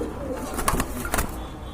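Pigeons coo at a busy pigeon market where large birds are sold in pairs, giving two soft, throaty calls close by over a steady background hum.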